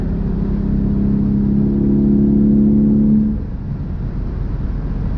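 Porsche 993 with an upgraded exhaust revving from inside the car, a loud, throaty steady drone that swells and then drops away to road noise.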